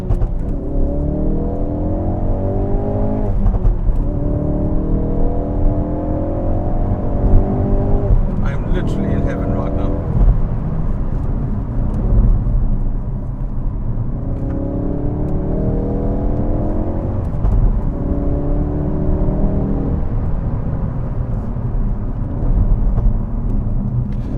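A Ford Focus RS with four-wheel drive drones along under acceleration from inside the cabin, its engine note rising and falling in pitch through gear changes beneath steady road noise, while people talk over it.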